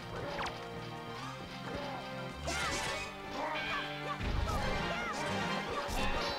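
Repeated sword swings and crashing hits in The Legend of Zelda: The Wind Waker during a fight, loud thwacks landing in irregular bursts over steady background music, with brief vocal grunts.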